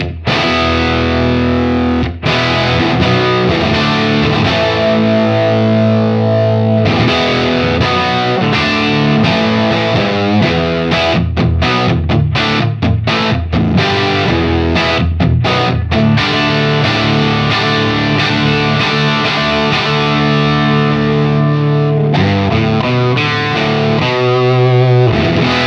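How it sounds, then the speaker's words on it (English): A 1967 Marshall JTM45 guitar amplifier turned up to 7 and cranking, heavily overdriven electric guitar chords and riffs played continuously, loud and close, with no talking. "let's have a listen to how this is going at 7, which is, you know, the amp's cranking at this point"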